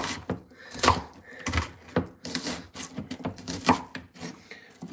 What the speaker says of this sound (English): just doing the roughly chopping the red onion